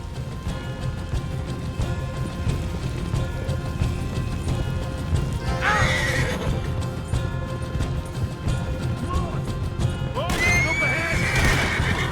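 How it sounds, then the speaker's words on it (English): In Red Dead Redemption 2, hooves pound steadily at a gallop while two loud horse whinnies break out, one midway and one near the end, over a busy rumbling background. "Get on the goddamn horse, Arthur!"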